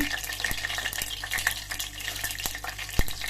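Steady sizzling of mustard seeds in hot oil with faint crackles and pops, a few sharp ticks scattered throughout, close and moderately loud, no talking.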